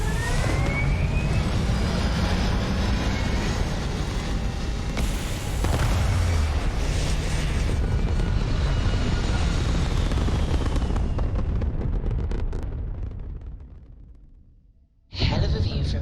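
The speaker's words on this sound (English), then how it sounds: "All thrusters firing." Spaceship thrusters fire in the video game Starfield, a loud continuous roaring rumble with deep booming weight that slowly fades and thins out, then cuts back in abruptly at full strength.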